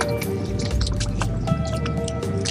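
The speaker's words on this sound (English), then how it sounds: "Splashing me like crazy." A dog splashing in water on a beach while clam digging on Salt Spring Island, with close wet squishes, drips and sloshing bursts in quick irregular succession.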